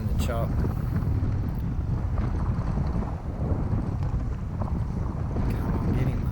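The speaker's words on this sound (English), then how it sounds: "So you can hear the wind in the background," Steady broadband wind roars across an open mic while kayak fishing for grunter bream on choppy water, a constant rushing buffet with faint water slaps and no clear talk.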